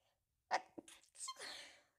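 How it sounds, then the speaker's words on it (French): A single close sneeze, a short sharp intake then an explosive burst trailing into a breathy exhale. "Je vais éternuer, pardon."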